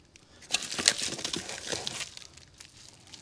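Plastic wrap crinkles softly as CrossFire Pro CNC plasma table parts are unpacked. Brief, close rustling and crackling comes in small bunches and then fades.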